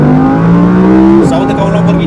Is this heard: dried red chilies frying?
no